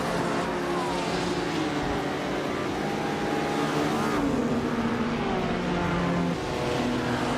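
A classic 1955 Maserati 300S races at the start of a video game race, its engine roaring loud and steady with shifting pitch as other cars run close by.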